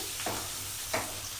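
Pieces of pumpkin and bitter gourd fry in a pan with a continuous hissing sizzle, broken by two short stirring scrapes.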